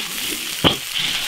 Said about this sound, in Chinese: 看，这个鱼煎得到位吧？